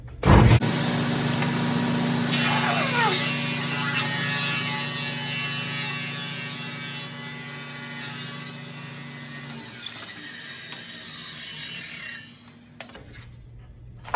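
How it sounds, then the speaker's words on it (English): A table saw rips a thin wooden strip, cutting loudly and steadily for about ten seconds before the blade winds down, with no one talking. "I set my saw to 5/8 of an inch, and I'm gonna rip a strip here."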